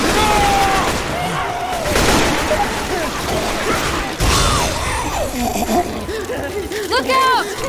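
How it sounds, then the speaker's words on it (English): Gunfire from Left 4 Dead rattles in loud, repeated bursts amid chaotic clanks and impacts, with excited voices talking over the shooting. "Why are you shooting?"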